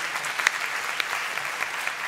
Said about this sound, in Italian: vorremmo un applauso